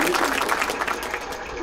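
A burst of audience applause at a grief-themed tea party event in Montgomery, dense steady clapping filling the room, loud and close, with faint voices mixed in.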